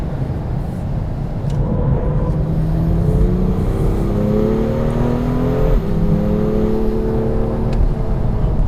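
A turbocharged BMW M2 accelerates on the Laguna Seca track, its engine and exhaust rising in pitch through the gears with a brief shift break midway, loud and close with no talking.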